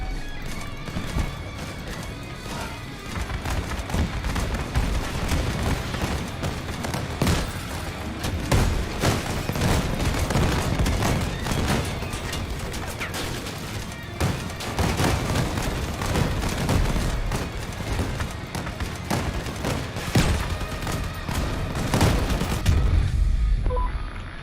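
Video game gunfire aimed at the player crackles in dense, rapid bursts of sharp shots and booms, loud and continuous over a noisy battle backdrop.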